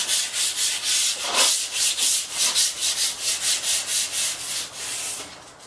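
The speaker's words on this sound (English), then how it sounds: "push down on the sandpaper to flatten everything out" Hand sanding of primer on the hood of a vintage garden tractor: steady rhythmic back-and-forth strokes of sandpaper, close and fairly loud, about a dozen evenly spaced passes with no talking.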